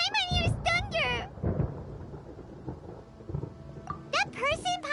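Thunder in the video game Genshin Impact rolls as low, muffled rumbles between and under animated character voices, with brief heavier bursts near the start.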